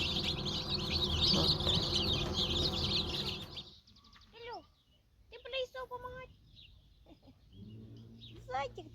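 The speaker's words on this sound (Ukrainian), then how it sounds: "Нова партія курчаток." High, rapid cheeping of many chicks fills the first half, then thins to scattered peeps as someone talks nearby.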